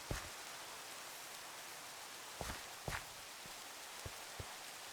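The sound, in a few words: rain in the video game Minecraft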